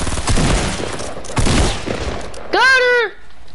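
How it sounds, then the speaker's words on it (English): Gunfire in Fortnite, loud close bursts of rapid shots in a couple of clusters, followed by a brief tonal vocal-like sweep near the end. "somebody's shooting at Big Kid."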